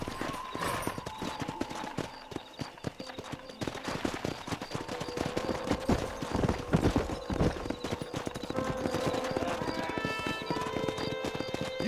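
Wild horses in the Red Dead Redemption video game gallop past with steady, close hoof clip-clop and repeated whinnies, set against a busy background of game sound and music.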